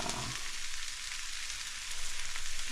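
Vegetables fry in a hot pan after oyster sauce is added, a loud, close, continuous crackling sizzle with a soft pulsing stir-like rhythm and no talking.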